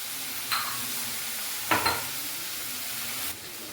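Paneer butter masala sautéing in a pan, a steady hiss of frying with two distinct scraping stirs of a spoon against the pan, fairly close and without speech.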